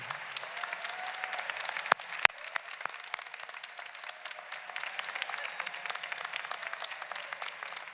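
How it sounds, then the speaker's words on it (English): Steady audience applause fills a commencement ceremony hall as graduates and guests clap for the faculty, dense and continuous with a couple of sharper individual claps standing out. "So I'd like to ask for a round of applause for faculty"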